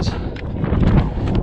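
Strong wind buffets the microphone at a mountain viewpoint in the Cadí-Moixeró Natural Park, a loud continuous rumbling gust lasting the whole moment, with no one speaking.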